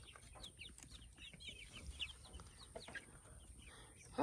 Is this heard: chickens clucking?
yes